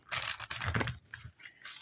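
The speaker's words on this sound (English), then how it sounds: "Oof, that was a bad shuffle." A Shadowscapes tarot card deck is shuffled by hand in a few quick, papery riffles and flutters, close by and crisp, with short pauses between bursts.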